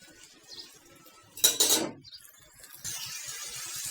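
A spatula scrapes briefly across a pan of leafy greens fried with garlic and green chilies, followed by a soft, steady sizzle.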